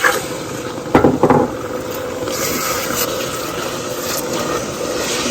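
Water poured from a container onto sugar and corn syrup in a pot for candied orange peels, a steady pouring rush with a couple of brief splashing bumps near the start, close and alone.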